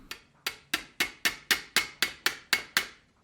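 Ten sharp metallic hammer blows on sheet metal over a dolly on a Chevrolet C10 truck ring out in a steady, even rhythm, each strike bright and close with a short decaying ring, no voices.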